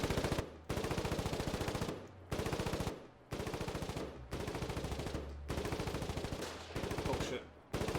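Machine gun fire in a tank battle video game, seven loud sustained bursts of rapid shots separated by brief gaps for reloading, close and dominant.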